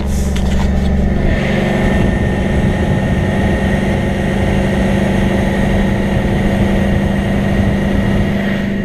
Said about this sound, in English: Here I am driving a beautiful Kenworth.